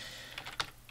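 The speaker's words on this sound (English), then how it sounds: "I'm going to type in" Typing a proxy address on a computer keyboard: a few quick, light key clicks in an irregular rhythm, close and quiet over faint room hiss.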